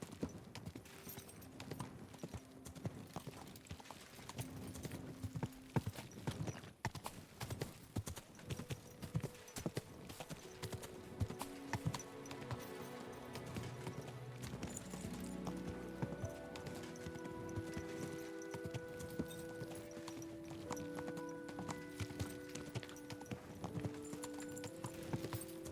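Horse hooves clip-clop steadily through a medieval city in the video game Kingdom Come: Deliverance II, with a rhythmic trot over game music and ambient sound, a brief whinny possible.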